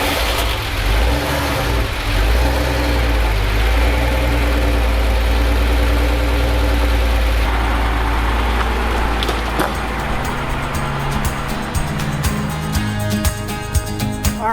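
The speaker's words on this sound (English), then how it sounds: "Start, Porsche 993." Porsche 993 on a cold start, a loud, steady air-cooled flat-six idle with a low rumbling drone throughout, a few small blips in engine note toward the end.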